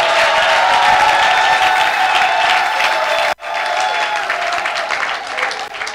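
A church congregation at a prophetic worship gathering applauds and cheers loudly, a dense sustained roar of clapping and voices that cuts out abruptly for an instant partway through, then resumes at full strength.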